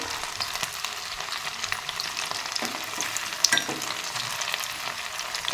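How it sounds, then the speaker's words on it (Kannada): Cauliflower florets for a kebab-style gobi fry crackle in hot oil as they are stirred toward golden brown: a close, steady sizzle with scraping and stirring knocks and occasional sharper pops, with no talking. "ಚೆನ್ನಾಗಿ ಫ್ರೈ ಆಗಲಿ ಗೋಲ್ಡನ್ ಬ್ರೌನ್ ಆಗಬೇಕು"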